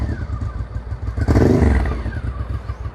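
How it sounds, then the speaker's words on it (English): A used motorcycle engine with a loud aftermarket exhaust rumbles steadily, its deep throb swelling briefly in the middle before settling back to a rough idle. "This one has an aftermarket exhaust"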